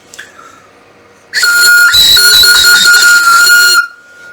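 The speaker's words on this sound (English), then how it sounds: "see if my whistle blows like a whistle" A hand-turned wooden Sapele whistle is blown once, a loud, shrill, breathy high-pitched tone sustained for about two and a half seconds up close, with a faint brief toot just before it.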